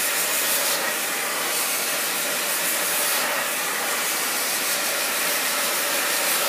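A hair dryer blow-drying and straightening natural hair, a steady loud airy whoosh with slight shifts in tone as the dryer moves, continuous and without speech.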